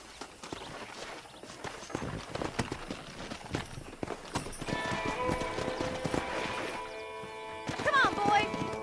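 Horses' hooves clip-clopping in the Red Dead Redemption video game while wrangling horses, a busy run of hoof strikes at close range, joined midway by ringing musical tones and a brief whinny-like cry.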